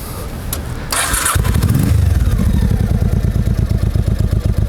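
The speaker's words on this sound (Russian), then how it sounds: "Остыл мотоцикл, надо погреть." A vintage motorcycle at an old-timer bike fair and flea market in Lodz fires up after a few tries, then settles into a loud, steady, throbbing warm-up idle close by.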